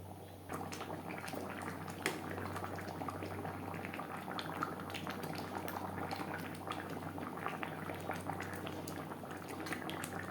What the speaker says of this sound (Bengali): গ্রেভির সাথে মাছ ও মাছের মাথা তিন চার মিনিট রান্না করব